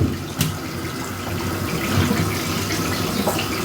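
Tap water runs steadily while a pet dog is bathed in a sink or tub, a close, continuous splashing gush with a small knock near the start and no talking.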